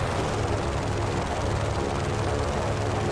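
A plane engine in the Just Cause 3 video game during an air race, a loud, steady roaring drone of engine and wind noise that holds constant throughout.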